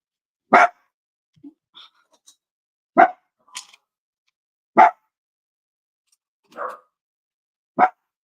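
Dogs barking outside at an indoor Christmas gift-wrapping session, five or six sharp single barks spaced a couple of seconds apart, fairly loud and clear with near silence between.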